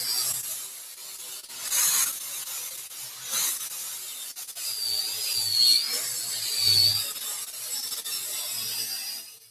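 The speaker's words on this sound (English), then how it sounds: "By utilizing a wire wheel grinder, we are able to get down to new steel" A wire wheel grinder scuffs the surface of an old steel window frame, a steady hissing, rasping abrasion that swells and eases in waves, fairly close, with no voices.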